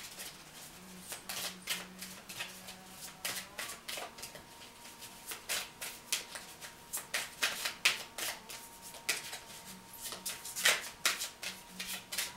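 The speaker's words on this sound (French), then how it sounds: "Et je vais tirer la carte du sens de la vie pour vous." Tarot cards are shuffled and handled to draw a card from the deck, giving soft, close riffling and a scatter of crisp flicks and taps spread unevenly over several seconds.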